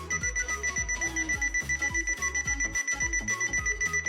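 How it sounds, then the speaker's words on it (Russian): A smart alarm clock shaped like a soft floor mat rings with a fast, loud, pulsing beep that repeats steadily over a high electronic tone. "В заданное время начинает издавать звуки или запускает определенную мелодию."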